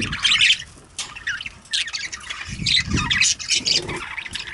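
Budgies in a cage give loud, close, harsh squawks and chirps that overlap in a busy, continuous burst of calls.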